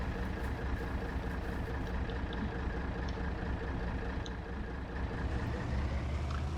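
A truck engine idles in Farming Simulator 25, a steady low rumble with a continuous hum that holds close and even from start to finish, with no talking.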